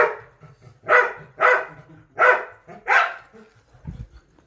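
A dog barks four times in a steady rhythm, close and loud, at a large cobra in a village compound, followed by a brief low thump.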